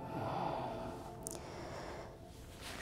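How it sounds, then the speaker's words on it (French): Slow, deep breaths drawn in and let out during a calm yoga session, a soft, airy rush close to the mic that continues steadily without talk. "Et prenez quelques grandes respirations ici"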